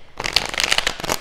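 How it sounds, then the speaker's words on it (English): A deck of tarot cards being shuffled by hand, a quick close burst of papery riffling and flicking clatter lasting about a second. "let's start shuffling here"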